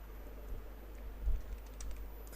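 Soft, quiet keystrokes tap on a computer keyboard in scattered bursts over a steady low electrical hum, with no talking.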